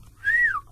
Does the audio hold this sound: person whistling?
yes